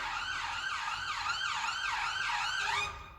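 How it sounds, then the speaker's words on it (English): A wailing siren passing by in the UK rises and falls in repeated sweeps, steady and fairly close, then cuts off abruptly near the end. "Wait for that siren to go past."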